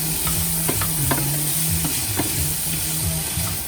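Garlic sizzling and frying in a pan for mac 'n' cheese, a steady hiss with scraping, knocking strokes of stirring, close and continuous.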